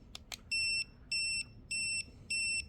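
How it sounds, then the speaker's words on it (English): An Arrma Vorteks BLX 223S RC car controller gives a sequence of four short, identical high-pitched electronic beeps, evenly spaced, after a couple of faint clicks. "it changes the beeps to let you know what setting it's in"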